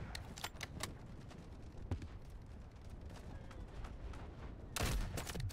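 Gunfire from the first-person shooter Delta Force: Havoc Warfare, with several sharp shots early on, one mid-clip and a louder, denser burst of firing near the end over a constant background rumble.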